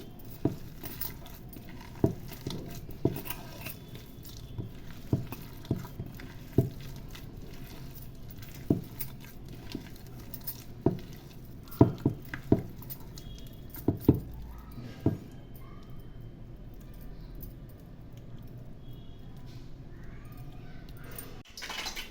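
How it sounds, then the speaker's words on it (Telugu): Punugulu batter being mixed by hand in a bowl, soft wet squishing and patting with irregular slaps, close and fairly quiet against a low background hum. "ఇది మొత్తం చక్కగా ఇట్లా చేతితో కలుపుకుంటేనండి పిండి మీకు చక్కగా కలుస్తుందండి"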